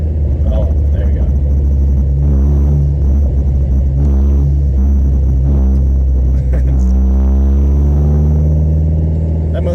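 Drivetrain of an SRT-4 fitted with solid motor mounts, a loud steady rumble with a whining, rising tonal note as the engine revs, close and continuous over ten seconds, with people talking over it.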